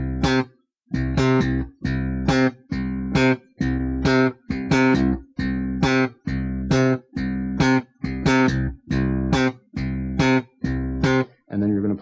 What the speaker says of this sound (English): So we're just going to play some simple octave exercises using some of the right hand rhythms that we talked about previously.